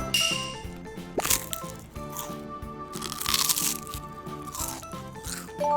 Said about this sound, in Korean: 바삭한 소리.